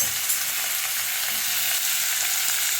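Onion, tomato and chopped vegetables sauté in a hot pan for a vegetable biryani, giving a steady, close, even sizzle with no pauses and no voices.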